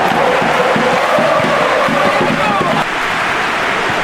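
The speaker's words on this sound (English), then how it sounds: "Crowd calling for him to shoot." A large stadium crowd in PES 2021 football roars in a steady, swelling wash of voices urging a player to shoot, loud and continuous with no break.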